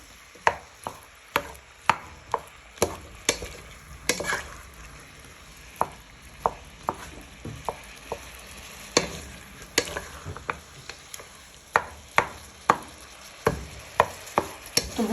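Sliced peppers, onion and garlic are stirred and tossed through pork sizzling in a frying pan, with a steady close crackle broken by frequent sharp utensil scrapes and knocks against the pan, no voices.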